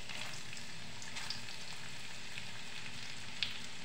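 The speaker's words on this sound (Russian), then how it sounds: "буду обжаривать до мягкости лука" Steady broadband sizzling of onion frying in butter in a hot pan, a continuous crackle with a few faint pops, no voices.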